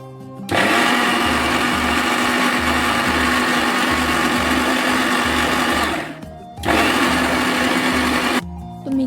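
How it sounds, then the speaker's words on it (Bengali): An electric mixer grinder grinding spices for cooking meat whirs loudly and steadily for about six seconds, stops briefly, then starts again in a second short burst before cutting off. "তো এখানে আসলাম মিক্সার করতে।"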